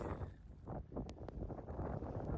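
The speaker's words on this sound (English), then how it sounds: "Yeah, it's gonna be really windy today too." Gusty wind from a winter blizzard buffets the microphone, a steady low rumble with occasional brief higher crackles, no voices.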